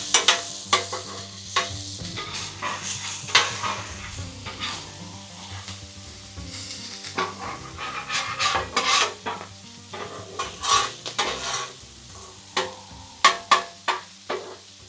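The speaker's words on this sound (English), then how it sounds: "I'm feeling just a little bit of butter down on these peppers and onions" Peppers and onions sizzle in butter on a griddle, a continuous hiss broken by frequent sharp scraping and clacking of a metal spatula stirring, close and lively for the whole stretch.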